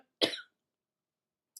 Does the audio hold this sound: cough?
yes